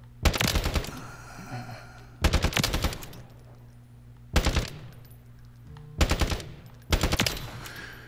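Hemlock burst rifle in the Apex Legends shooting range firing five loud, close bursts of rapid shots, each a tight cluster of sharp reports, separated by brief pauses with faint game ambience between.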